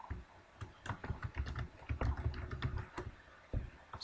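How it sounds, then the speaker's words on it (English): Quiet clicking of keys on a computer keyboard, a quick burst of close taps in short irregular runs with brief pauses between them. "I'll type in home,"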